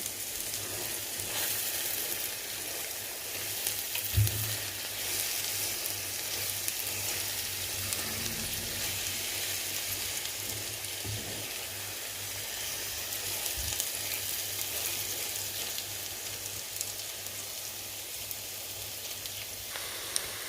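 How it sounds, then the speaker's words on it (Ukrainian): Onions and eggs fry together in a pan on smoked lard, giving a dense, continuous crackling sizzle heard close and steady throughout, with a few soft knocks of a utensil. "так їх уже жарю все разом"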